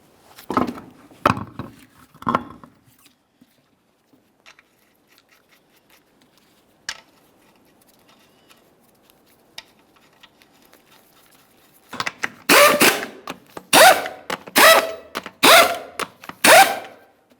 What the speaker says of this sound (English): One last quick inspection in this area, and we can reinstall the wheel.